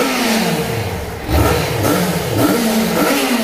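Yamaha XJ6 motorcycle on its original exhaust revving in short bursts, close and fairly loud, the engine rising and falling a few times with a mild mechanical clatter and no talk over it.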